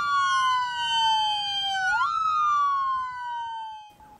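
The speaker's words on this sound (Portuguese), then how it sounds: "aconteceram ao som das sirenes das ambulâncias do SAMU" SAMU ambulance sirens wail during a funeral procession, a loud electronic siren sweeping down in pitch, jumping back up and gliding down again, with faint street noise beneath and no talking.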